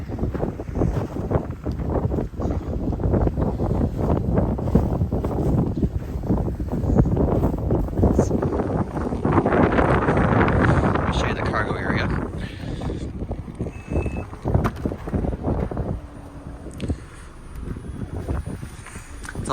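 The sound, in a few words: wind blowing outdoors during car walkaround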